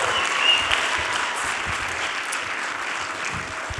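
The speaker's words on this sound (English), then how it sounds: "Let's clap for Felipe and Naomi." An audience at a church follies show claps steadily for performers, a dense, even wash of applause that holds at full strength and tapers only slightly toward the end.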